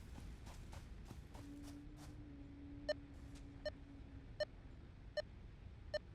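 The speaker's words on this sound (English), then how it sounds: "it's beeping and it shows what it's finding?" The object scanner in the Satisfactory video game gives five sharp, evenly spaced beeps about every 0.75 seconds over soft game ambience, with a low steady tone and faint clicks beforehand.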